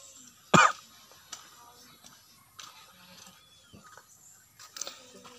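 A single sharp cough near the start, close and loud, followed by faint rustling and small noises in a quiet indoor space.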